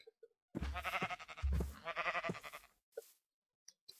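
A grey sheep in Minecraft gives two close, wavering bleats back to back, followed by a few faint clicks.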